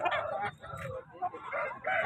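Fighting roosters for sale at the Thursday Punganur rooster market give short clucks and a crow-like call, moderately faint and fairly close, repeating in bursts with market noise around them.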